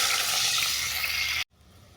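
Tamarind water poured into hot mustard oil with tempered five-spice for a bhola fish sour curry, a loud rushing hiss and crackling sizzle that cuts off abruptly, leaving a faint quieter simmer.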